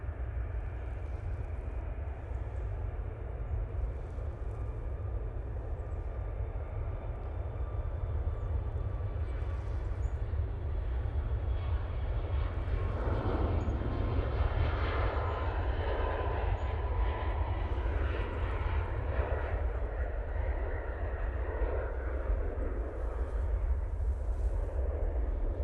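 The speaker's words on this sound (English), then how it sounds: "Ryanair 737 MAX 8. Now going off to Alicante." A Ryanair Boeing 737 MAX 8 departs Manchester airport for Alicante. Its engines give a loud, continuous low roar that holds steady throughout, with a rising hiss of engine noise in the middle.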